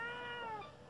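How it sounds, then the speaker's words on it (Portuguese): A female cat on a rural farm gives one short, clear meow that trails off within a second, fairly close and alone over a faint background hum. "Aqui tá a gatinha."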